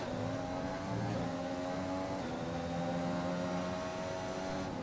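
Cockpit view of an F1 2021 race car in the video game, racing on the China track, with a continuous, moderately loud engine drone and shifting tones as it brakes hard and accelerates, with no voices.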